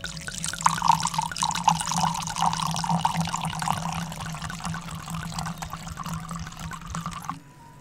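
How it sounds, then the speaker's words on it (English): Homebrew poured into a clear crystal glass: a steady liquid stream splashes and fills for several seconds, then stops abruptly, close and alone. "You pour it into a glass."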